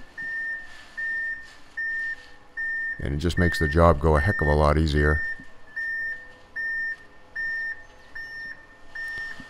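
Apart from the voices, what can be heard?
concrete truck reversing beeps while backing in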